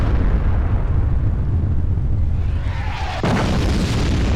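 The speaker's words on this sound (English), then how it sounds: "Other artillery are all firing desperately at him." Heavy booming explosions in World of Tanks, with artillery shells firing and landing, a dense loud rumble that swells and then cracks in a sharp blast near the end.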